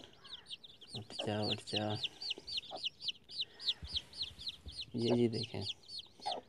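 An aseel hen clucks close by in a rapid, repeated series, with louder cackling bursts among the clucks. Someone speaks in between.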